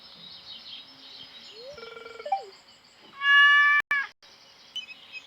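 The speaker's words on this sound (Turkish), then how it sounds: "Orada oturuyordu sanırım başı boş bir kedi zavallıcık." A cartoonish stray cat in Stardew Valley meows twice, short and bright, amid electronic game chimes and a brief loud tone, close and clear.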